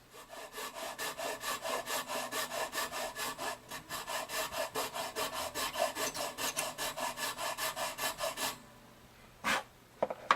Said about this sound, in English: I'm not filing flat with the fretboard here. I'm not filing you know, up like that. I'm trying to hold the file at